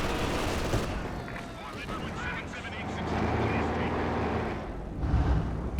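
Machine gun and tank cannon fire from a Soviet KV tank and German squads in a Company of Heroes 2 battle, a dense continuous rattle of gunfire with heavier booms, running under a commentator's voice.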